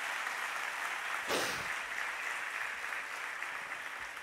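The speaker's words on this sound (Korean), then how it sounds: "우리 박수 하시겠습니다." Congregation applauding during a Korean church Thanksgiving service, a sustained, even roar of many hands clapping that fills the room and fades slightly toward the end.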